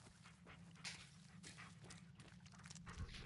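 A dog in the Blair Witch video game panting and whimpering in a forest, faint and restless with short breathy pulses repeating throughout.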